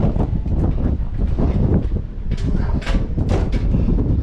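Strong, gusty wind at an observation tower in High Point Park, New Jersey, buffets the microphone with loud, continuous low roaring and rustling, surging in waves throughout.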